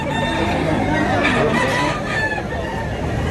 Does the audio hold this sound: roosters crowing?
yes